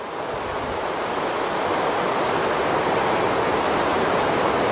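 Steady, dense roar of Anıklı waterfall in Turkey, broad and unbroken, filling the whole clip with no voices.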